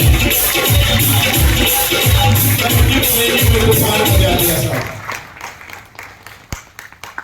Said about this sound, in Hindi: दिल से जबरदस्त तालियां कमल जी के लिए